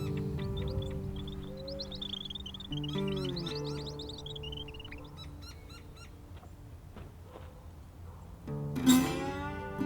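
Black-throated sparrows chirp in the desert, giving a series of clear, tinkling calls and trills. The notes are close and fairly faint against a quiet background, with a brighter burst of song near the end.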